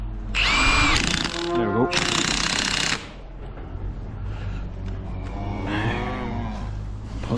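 A power tool spins a bolt socket in two loud, close whirring bursts a moment apart, then falls quiet while someone talks briefly over low background noise.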